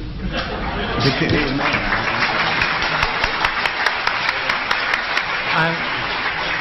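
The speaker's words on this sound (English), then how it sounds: "I'm delighted with the applause from the architect" Lecture audience applause breaks out during a talk on Buddhist economics and building design. Clapping and murmuring chatter continue at a moderate, even level throughout, with voices mixed in.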